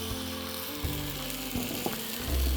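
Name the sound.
pork chops placed into hot cast iron pan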